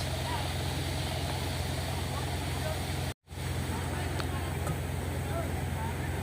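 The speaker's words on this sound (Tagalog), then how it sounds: "winch yan, winch motor lang malakas" A winch motor runs on a 4x4 off-road rescue vehicle at an overnight camp in Tanay, Rizal, giving a steady, loud mechanical drone that briefly cuts out midway before resuming. Faint voices may sit under the hum.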